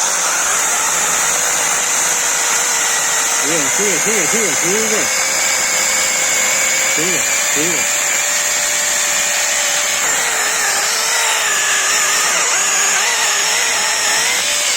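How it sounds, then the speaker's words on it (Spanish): A Hychika cordless battery chainsaw cuts through a thick, dry log with a steady, loud motor whine held for the whole stretch, and a voice speaks briefly over it. "vamos a darle candela con la motosierra de Ichica"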